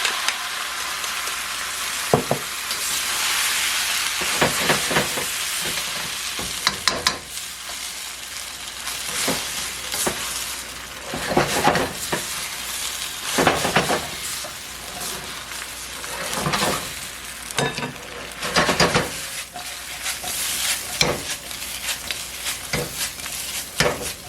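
Roasted cauliflower and peppers are stirred in a hot pan with glaze for Gobi Manchurian, giving a loud steady sizzle broken by repeated scraping sweeps of the spoon, close and without talk.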